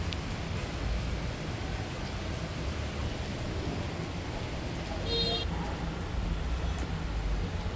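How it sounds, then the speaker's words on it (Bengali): Heavy rain pours down outside a home's balcony as a dense, steady hiss throughout, with a brief faint chirp partway through. "অনেক জোরে বৃষ্টি আসছে।"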